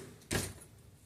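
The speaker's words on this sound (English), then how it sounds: "And I don't shut the door all the way." A door swings shut with a single short, moderately loud thud and brief rush of noise, alone in a quiet room with no talking.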